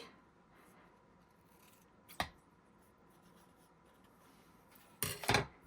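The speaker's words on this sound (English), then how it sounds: "Let me grab my scissors, and I'm just going to kind of trim this up just slightly." Scissors snip a paper napkin while trimming it around a wooden earring for a decoupage craft: one short crisp cut, then a quick double snip near the end, close and clear over a quiet room.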